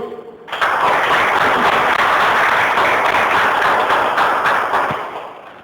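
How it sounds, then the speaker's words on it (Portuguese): A church congregation at a Sunday morning service breaks into dense, steady applause that starts abruptly, holds strong for several seconds, then tapers off. "Muito bem, vamos aplaudir a Jesus."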